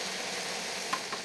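Red pepper, confit onion, courgette and aubergine sizzle steadily in a hot pan, a continuous bright hiss with two brief louder crackles near the end and no talk.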